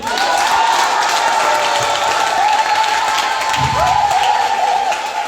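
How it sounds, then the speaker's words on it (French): Audience applause with some cheering from a large crowd at a French-language personal development and entrepreneurship training session, a loud, steady wash of clapping throughout. "Est-ce que tu peux acclamer?"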